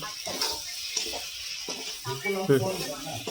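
Mutton masala for a village-style mutton fry sautés in a pan, giving a steady close sizzle broken by stirring scrapes, with a voice briefly heard.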